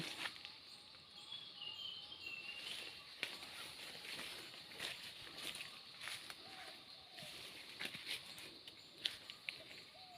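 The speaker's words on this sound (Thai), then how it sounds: "ฟังเสียงนกร้องเพลง นกเขาก็กำลังขัน" Birds sing outdoors in rural surroundings while a dove coos, the chirps thin and moderately distant over a steady outdoor background, with a voice talking at times.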